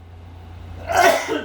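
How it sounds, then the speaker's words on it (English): A single human sneeze after a quiet lead-in, a sharp close burst followed by a short trailing exhale. "I'm gonna sneeze"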